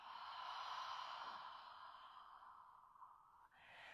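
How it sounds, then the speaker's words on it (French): A single long, soft breath pushed out through the mouth during a children's yoga breathing exercise, fading gradually over about three seconds before a quick intake of air. "Et expire par la bouche."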